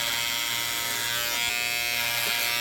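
Electric hair clippers with the lever open, running with a steady, close mechanical buzz and hum that holds level the whole time, no voices over it.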